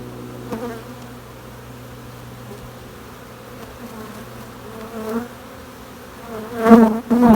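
Honey bees hum steadily around a hive while nucs are being harvested, a continuous close buzz that swells louder near the end as bees pass by the microphone.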